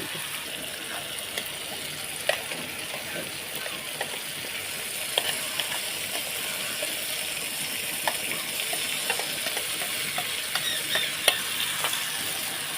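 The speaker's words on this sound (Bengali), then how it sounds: "দিয়ে একটু হালকা করে ভেজে নেব" Spice paste for a fish curry with sochne leaves sizzles and crackles in a pan, a steady hiss broken by small pops and the occasional clink of a utensil.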